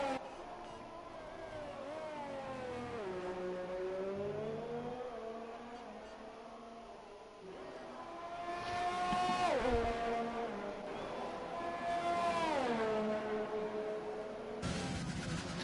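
Formula 1 cars in an F1 esports racing game at the Brazilian Grand Prix give off a high-pitched engine whine that climbs and drops through repeated gear changes, fairly quiet, with a commentator's voice faintly present.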